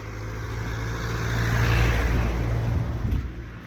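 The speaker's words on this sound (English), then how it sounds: "Oh, another car." A car drives past on a road at Wychbold, its engine noise swelling to a peak and then fading away, with no talk.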